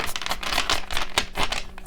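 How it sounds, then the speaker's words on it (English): Tarot cards being shuffled by hand, a rapid papery riffling and flicking in quick bursts, close and fairly loud with no voices. "I'm told to shuffle one more time"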